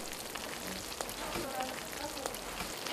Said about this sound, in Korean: 술이 끓는다.